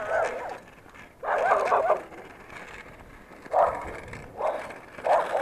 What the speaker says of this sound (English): Dog's crazy.